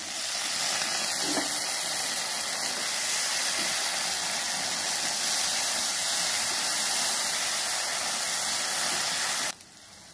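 Potatoes hitting hot oil in a frying pan for a bitter gourd and onion bhaji, a loud, close, steady sizzling hiss that runs unbroken for about nine seconds and then cuts off.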